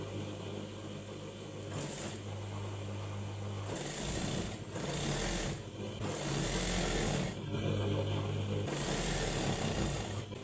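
A sewing machine stitches dress fabric in steady whirring runs of a few seconds each, separated by short pauses, loud and close with no talking.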